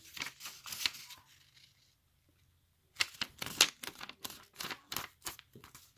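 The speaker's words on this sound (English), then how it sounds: "fold it in half" Square origami paper is folded in half by hand, close, faint crisp crinkles and sharp creasing taps in two bursts separated by a brief silent pause.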